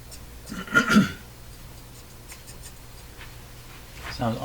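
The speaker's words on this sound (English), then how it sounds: "Sounds almost like a capacitor is rubbing." Scratchy rubbing and crackling bursts come from inside a Crosley Mohawk 14B tube radio, sounding as if a capacitor is rubbing, faint and intermittent over a low steady hum.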